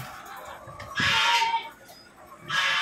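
Chickens cluck and squawk in two loud bursts with quieter farmyard noise in between, close by.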